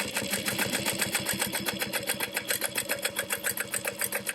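A domestic sewing machine stitches glitter vinyl with a long stitch length, its needle hammering in a fast, even, loud rhythm close by, continuous throughout with no talking.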